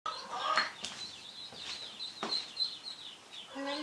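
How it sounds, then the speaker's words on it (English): Baby ducklings peep in a thin, high, steady chorus close by, with occasional louder calls breaking through and a few soft bumps and handling noises around them. "excited to be raising these little baby ducks to go with our other 5"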